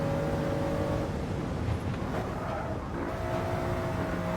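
Toyota GR Yaris engine pulling hard in sixth gear down the Döttinger Höhe straight at the Nürburgring, a loud, steady, close drone with rising harmonic pitch that dips briefly, then resumes.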